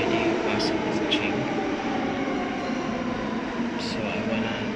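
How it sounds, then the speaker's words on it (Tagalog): A metro train passes through a station in Warsaw, Poland, as a continuous low rumble and hum with faint high squeaks. The sound is moderately loud and steady, and soft voices are heard beneath it. "I'm waiting for my MRT train, and the train is"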